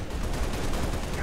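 Brute weapon fire in a Halo Reach mod, a rapid burst of heavy, muffled shots packed tightly together, loud and continuous across a short moment.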